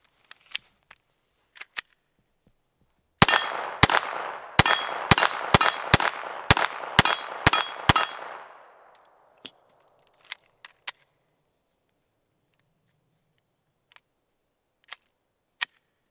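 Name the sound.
Glock 44 pistol firing .22 Winchester rounds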